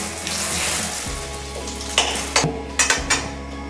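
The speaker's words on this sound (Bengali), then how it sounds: "তেলটা গরম হয়ে গেছে গা। তো এখন এটার মধ্যে দিয়ে দেবো তেজপাতা।" Bay leaves hiss as they drop into hot oil for chicken feet curry, giving a steady sizzle. A cluster of sharp metallic utensil clinks and taps follows near the end, with a low hum beneath and no voices.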